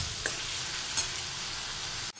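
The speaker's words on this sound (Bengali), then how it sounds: "মশলাটা কষানো হচ্ছে" Spice masala of tomato, garlic paste and ginger paste fries in a pan with a steady, close sizzle and a couple of faint stirring clicks, cutting off abruptly near the end, no voices.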